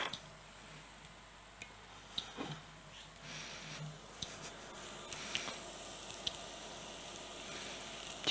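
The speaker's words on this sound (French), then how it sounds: "Je vais mettre une petite noisette de beurre" A small knob of butter sizzling in a pan, a faint, fine crackle beneath quiet kitchen sounds, with a few sharp ticks and taps scattered throughout.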